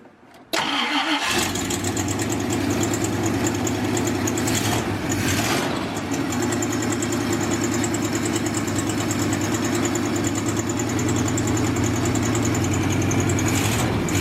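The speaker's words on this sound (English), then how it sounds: "now we're going to put it back in, and hopefully it'll start right back up" A muscle truck engine cranks and catches within the first second, then settles into a loud, steady close idle with a faint knocking edge, with no talking.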